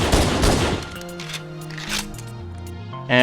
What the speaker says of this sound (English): the distinct sound of the Magnum